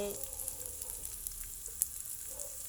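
Continuous soft crackling sizzle of garlic frying in hot oil, steady and fairly quiet, with one small pop partway through.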